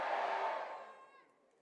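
A crowd of young people at a youth festival in Chandigarh roars a loud, sustained cheer in response to a chant, the massed voices swelling briefly and then fading into the cold air.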